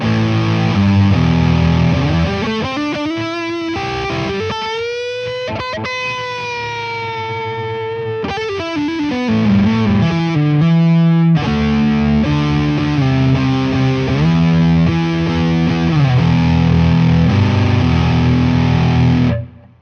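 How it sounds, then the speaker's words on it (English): Electric guitar played through the lead distortion setting of a BOSS MS-3 effects switcher, sustained singing notes and bends with a thick, saturated tone, loud and continuous with no talking. "And then a lead distortion."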